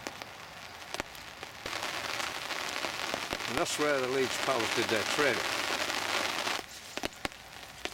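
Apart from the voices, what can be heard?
rain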